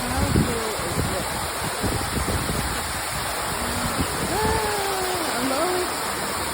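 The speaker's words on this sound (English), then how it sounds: "Look at this waterfall." An indoor waterfall inside a building in Hawaii pours with a steady, broad rushing hiss close by, while a person talks over it.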